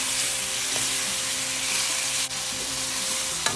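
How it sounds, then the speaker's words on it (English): Shallots, garlic and tomatoes sizzle steadily in a pan while being stirred for a Vietnamese crab noodle soup, a continuous loud frying hiss with a few faint scrapes and clinks, no voices. "And just get everything a good stir."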